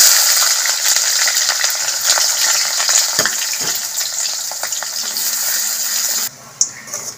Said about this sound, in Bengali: তেল গরম হয়ে গেছে, আমি পেঁয়াজটাকে একটুখানি বেরেস্তা করে নেব।